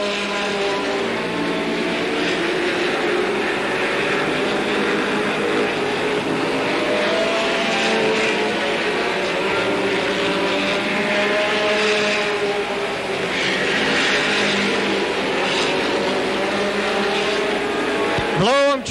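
Late model race cars at a 1985 oval track race roar steadily in the distance, engines droning and rising in pitch as they pass, with a commentator talking over them throughout.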